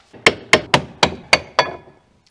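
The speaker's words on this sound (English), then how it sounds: "So we're gently gonna tap this brake caliper off the brake disc." Six sharp metallic taps knock a brake caliper loose from the rear brake disc of a MINI Cooper R50, struck in an even rhythm close by, each hit ringing briefly before the next.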